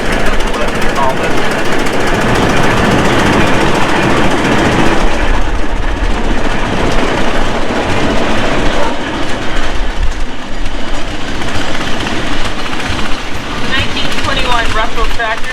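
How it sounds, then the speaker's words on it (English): Antique prairie tractors running on gas, kerosene and distillate at a steam threshers' reunion in Rollag, Minnesota, a loud continuous rhythmic engine chugging and clatter throughout with a voice over it. "These are the tractors that are burning gas and kerosene."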